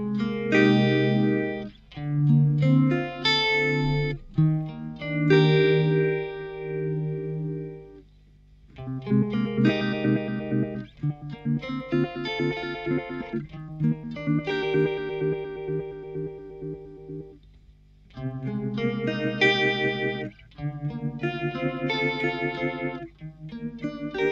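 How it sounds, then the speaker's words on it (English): Phaser effects from a PedalPro system effects unit sweep through sustained electric tones, swirling and slightly distorted, played in loud close phrases with short gaps between them and no talking. "Let's hear some phasers."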